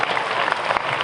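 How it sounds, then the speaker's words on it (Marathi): An audience at a school program claps to welcome students, a short burst of dense, even applause filling the room. "सर्व विद्यार्थिनींचं आपण या ठिकाणी टाळ्या वाजवून स्वागत करायला हवं."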